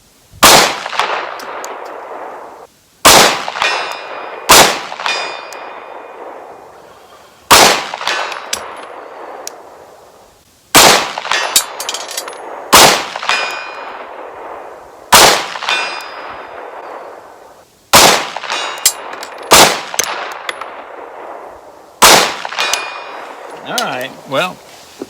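Springfield Echelon pistol shots ringing off a steel target at 100 yards: about a dozen sharp metallic clangs spaced a second or two apart, each with a bright decaying ring, no talking.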